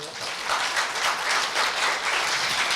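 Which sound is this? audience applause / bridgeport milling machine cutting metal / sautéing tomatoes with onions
audience applause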